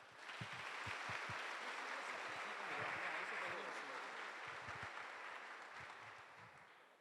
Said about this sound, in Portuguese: E o acolhamos com a calorosa salva de palmas.